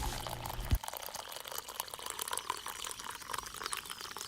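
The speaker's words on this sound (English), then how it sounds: "So pour yourself a hot cup and enjoy the show." Hot coffee is poured into a cup, a steady watery trickle and splash that runs for a few seconds at close range after a short low thump, with no voices.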